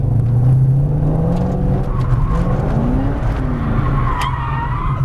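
A Ford Mustang Shelby drifts on a track, its rear tires squealing loudly in long sliding sweeps over a steady engine roar, close and sustained.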